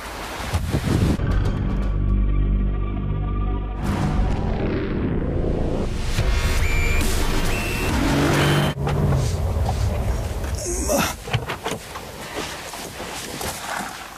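A Mercedes E63 AMG engine revs hard and accelerates, its loud rising tones climbing through gears with a brief dip between pulls, then fading into wind and road rush.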